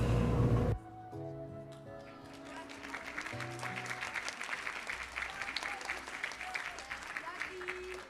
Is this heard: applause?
yes